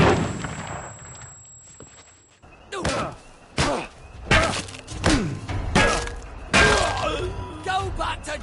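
Explosions from bombing in the video game We Happy Few: a series of sharp, heavy blasts and crashes, about six impacts arriving irregularly after a quieter opening, with voices heard among them.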